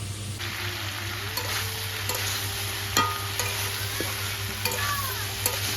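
Soybean curry with ginger and cumin paste sizzling in a pan, a steady frying hiss with repeated scraping knocks of a spatula stirring it, and a continuous low hum beneath.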